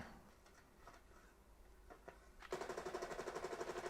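Gun firing in a PlayStation 5 video game: quiet clicks and faint taps at first, then a rapid burst of repeated shots that continues to the end.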